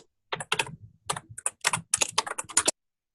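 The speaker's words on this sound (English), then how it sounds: "I will mute Yise, who is typing very loudly." Loud typing on a computer keyboard picked up by an open meeting microphone, rapid bursts of sharp, close key clicks with a brief pause partway through.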